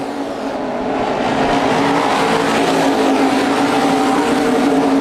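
Modified race cars roar around an oval track in a dense, loud, continuous engine wash that swells as the pack nears, with faint tire noise mixed in.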